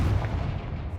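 A deep, booming blast with a rumbling tail from the Confringo fire spell in the Hogwarts Legacy video game, heavy and loud for about a second with no voice over it.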